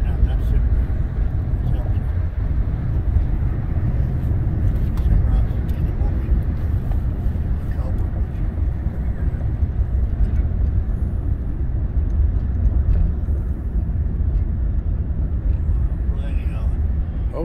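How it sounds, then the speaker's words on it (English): A car driving along Alta in Las Vegas, with a steady low road rumble and engine drone heard from inside the cabin, constant throughout, while people talk over it. "We're driving down Alta."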